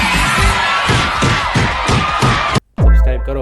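Studio audience at a comedy roast claps in a loud, dense burst that runs steadily for a couple of seconds, then cuts off abruptly before a voice begins.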